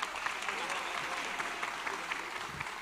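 Steady applause from a crowd at a Prabowo-Gibran political declaration rally, dense clapping that fills the space evenly and holds at a constant level throughout.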